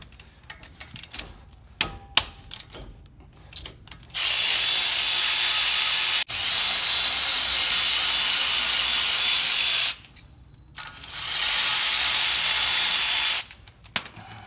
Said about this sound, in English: On this vehicle, I'm using a 14mm socket to do that.